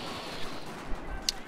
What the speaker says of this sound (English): I can hear gunfire.